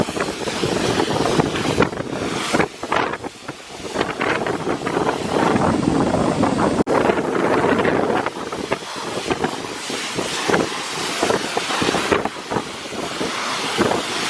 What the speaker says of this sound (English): Man, it's so windy, and it feels so good.